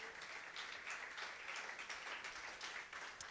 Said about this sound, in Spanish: Denle un fuerte aplauso porque Él se lo merece.